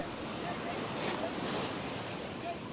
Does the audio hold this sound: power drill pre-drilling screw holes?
no